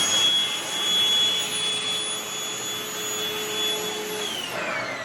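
A Milwaukee vacuum cleaner runs continuously with a steady, high-pitched whining motor tone and airy rush, close and alone, with no talk.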